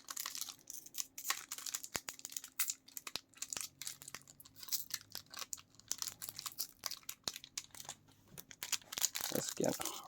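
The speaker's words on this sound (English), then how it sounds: "Let's open some packs, and hopefully we can get some good cards" Trading card packs being torn open by hand, giving faint, close crinkling and ripping of foil wrappers in irregular bursts throughout.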